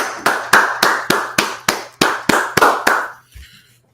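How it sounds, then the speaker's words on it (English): Slow, deliberate group clapping in unison at a street gathering of the Israelite School of Universal Practical Knowledge in Washington, about ten loud, evenly spaced claps before stopping. "Let's clap it up"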